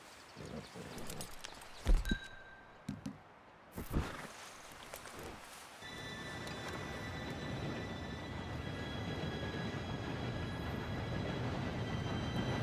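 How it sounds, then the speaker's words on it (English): A steam train arrives in the Red Dead Redemption 2 game world, building into a steady, loud rumble with sustained whistle-like tones. Before it, a few sharp knocks and footsteps stand out against ambient background. "Train should be here any minute now."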